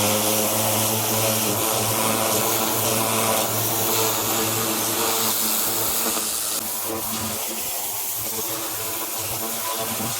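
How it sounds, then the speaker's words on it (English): A pressure washer blasts the underbody of a Jeep Cherokee XJ, its loud, steady motor drone and spray hiss running without a break, easing slightly near the end. "Yeah, pressure washer's gonna take a lot of this off."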